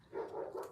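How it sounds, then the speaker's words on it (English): Neighbor's dogs barking in a short burst, a couple of muffled mid-range barks close together at moderate distance, with no talking over them. "And then that's my neighbor's dogs. That's not my dogs."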